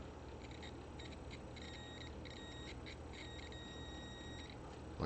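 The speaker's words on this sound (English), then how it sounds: "So if you put your meter on continuity where it makes a beep," A multimeter set to continuity beeps during an amplifier repair, several short tonal beeps in irregular bursts with one longer sustained tone, quiet and close against a low room hum.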